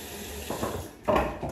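Water runs from a bathroom tap while a bar of African black soap is wetted by hand, a close, steady splashing stream that swells louder near the end.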